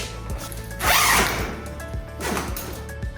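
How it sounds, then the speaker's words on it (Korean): Zipper pulled open on the carrying bag of an SMDV Mega Bounce 220 softbox, two distinct rasping runs, the first louder and longer, close up with faint handling noise. "해체를 할 때는 이제 지퍼를 열어주시면 편하거든요"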